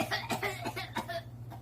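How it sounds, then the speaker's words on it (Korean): A person coughs several times in quick, short bursts, close and fairly quiet, during a playful impression skit at a pajama party. "누가 감히 기침을 했나?"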